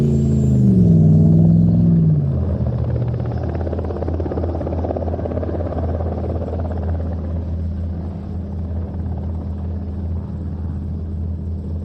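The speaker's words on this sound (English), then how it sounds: "And Ben, I think that is a really fabulous demonstration of helicopter display flying." Helicopter display flying at an airshow in Leszno: a loud, steady rotor and turbine rumble with a rising-falling whine at the start, then a continuous heavy drone that stays strong throughout.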